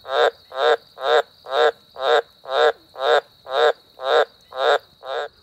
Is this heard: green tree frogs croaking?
yes